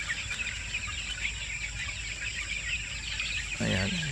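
Newly hatched chicks in a batch of over a thousand peep high and constant in the background, with a louder call and a brief low voice near the end.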